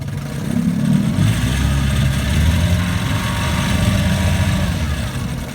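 A 1954 Evinrude Fleetwin 7.5 hp outboard motor idles steadily nearby, a low continuous mechanical chug with a rough, uneven texture and no speech over it.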